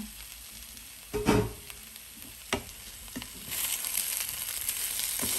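Cubes of elephant yam being turned in a frying pan over medium-low flame: a continuous soft sizzle broken by a few scraping stir strokes, with the frying growing louder toward the end and no voices.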